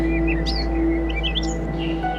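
The Adarna bird sings in an animated Filipino folk tale, its bright chirping phrases rising over a steady droning music bed, fairly close and continuous with no voices.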